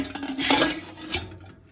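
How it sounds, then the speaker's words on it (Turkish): A metal pressure cooker lid scrapes and clanks against the pot as it is twisted open after cooking tripe soup, with a brief rasping rub and a second clink, close up. "Şimdi kapağını açıyorum."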